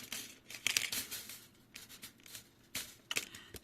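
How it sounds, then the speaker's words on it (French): Paper is cut with scissors to shape a heart for a handmade vintage flower card, giving sharp snips and crinkly rustles in short, uneven bursts with quiet gaps between them. "Couper le cœur aussi."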